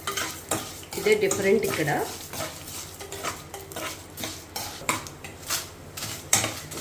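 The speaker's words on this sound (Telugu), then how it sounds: "కందిపప్పు కూడా ఇందులోనే వేయించుకోవాలి" Toor dal fries in a pan under repeated stirring, with a spoon clinking and scraping against the metal over a light sizzle. A voice briefly says a few words.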